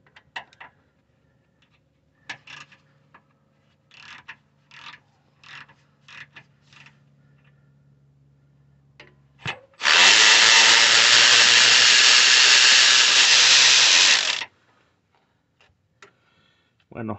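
Power tool loosening starter motor bolts on a 1993 Chevy S10 Blazer, a steady loud whirring burst of about five seconds, close by, with brief ticks and someone talking before it.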